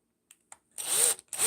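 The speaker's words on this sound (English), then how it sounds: "Drill a hole." A power drill bores a hole, in two loud sustained bursts of whirring after a couple of short taps, close to the microphone.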